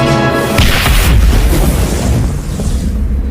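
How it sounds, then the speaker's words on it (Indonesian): A grenade launcher fires in a video game, a loud booming blast with a rumbling tail that fills the scene with no speech over it. "Setelah itu si TJ mengeluarkan senjata andalannya, yaitu peluncur granat, dan langsung menembakkannya"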